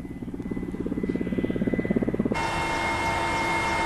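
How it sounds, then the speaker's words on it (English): A warlord's helicopter flying over Afghanistan thumps with rapid, rhythmic rotor chop that grows louder, then gives way to a steady, droning engine whine inside the cabin. "We flew there in a warlord's helicopter."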